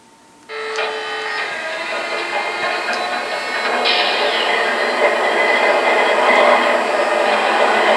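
An MTH Norfolk Southern Dash 9 model locomotive starts up, opening with a sudden switch-on click and then settling into a steady, fairly loud engine hum and rumble that swells slightly partway through and carries on with no talk.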